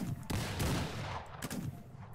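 Gunfire in a video game, a burst of loud shots with sharp cracks near the start and again around the middle, over a dense, noisy game soundtrack.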